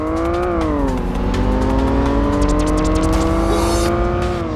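Corvette in the Tokyo Xtreme Racer Drift racing game accelerating hard, a loud, close engine wail climbing through gear changes with a brief dip, continuous and alone.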